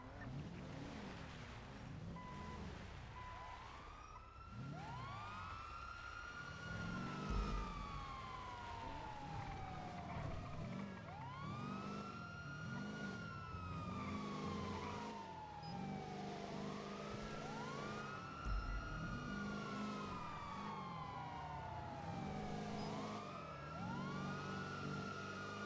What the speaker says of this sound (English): Just waiting on Angela to get into her ambulance